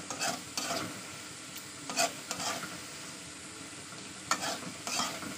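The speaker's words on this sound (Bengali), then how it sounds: "চলুন এবার এটা ভালো করে কষিয়ে নিই।" Shrimp sizzle as they are sautéed in a pan, a continuous frying hiss punctuated by repeated scraping strokes of a spatula, close and fairly loud with no talking.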